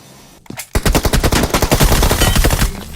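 Automatic gunfire in PUBG Mobile: after a brief quiet moment, a loud, rapid, sustained burst of shots rattles in close succession for about two seconds.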